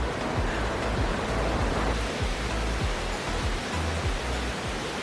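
El Chiflon waterfall in Chiapas, Mexico, roaring as a steady, loud, broadband rush of falling water that never lets up, heard close with no voices.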